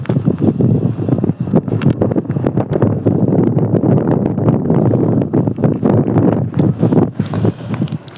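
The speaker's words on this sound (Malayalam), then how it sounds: "കാറ്റ് പിടിക്കുന്നുണ്ട്, നല്ല കാറ്റാണ്." Strong wind roars and buffets across a hilltop, a continuous rushing gust with flapping bursts hitting the microphone, loud and close for the whole stretch.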